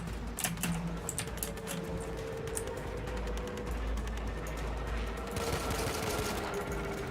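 Rapid gunfire chatters continuously in Warframe, a dense stream of quick shots with a short brighter flurry of hits toward the end.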